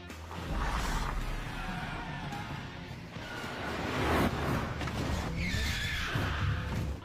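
A car's tires squeal and skid as it swings around sharply into a mall parking lot, several screeching bursts rising and falling over engine noise amid action-movie commotion.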